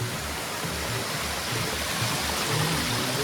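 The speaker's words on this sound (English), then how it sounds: "More waterfalls." Rushing water from a waterfall, a constant close hiss and low churning rumble, unbroken and without speech.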